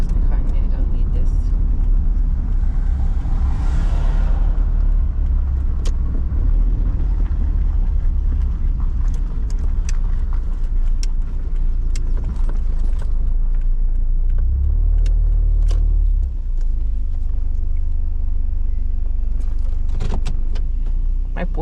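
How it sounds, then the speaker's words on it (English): Traffic rumbling along the road behind a parked van, a steady low drone of passing cars that stays loud and close throughout, with someone talking over it. "some cars behind me, I don't need this"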